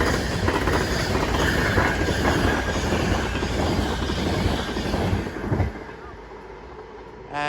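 A train rushes through Crewe station on the West Coast Main Line with a loud, dense rumble and rattling wheels for about five seconds, then fades to a quieter hum before a brief rise at the end.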